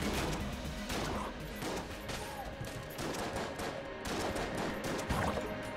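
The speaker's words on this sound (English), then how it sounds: "So, let's just shoot it." Gunfire from the video game Enter the Gungeon, with a continuous rattle of rapid shots layered over in-game music and effects throughout, fairly dense and steady in level.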